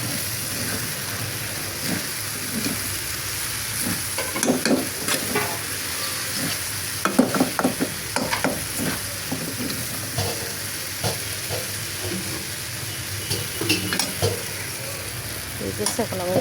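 Vegetable bhaji fries in a pan with a steady loud sizzle while a spatula stirs and scrapes through it in irregular bursts. Faint voices are heard in the background.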